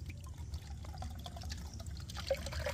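Small stinging catfish fry, Heteropneustes fossilis, being released into water, giving soft pouring and trickling water sounds with light drips over a low background rumble, with no talk.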